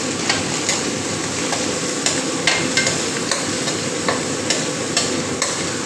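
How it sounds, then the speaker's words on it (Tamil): A spoon stirs mutton curry with chana dal in a pot. The loud, close sizzle runs continuously, and repeated scraping strokes against the pot sound every half second or so, with no talking. "எல்லாம் கிண்டணும்."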